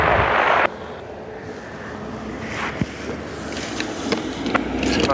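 A Ryanair airliner passes at Dublin Airport, its broad jet roar loud at first, then cut off and followed by softer rumbling and wind noise.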